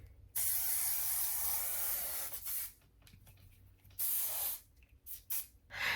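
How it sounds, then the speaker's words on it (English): Several bursts of hairspray hiss close by onto hair, one long steady blast followed by shorter puffs with brief pauses between them. "I'm just gonna spray it with some hairspray"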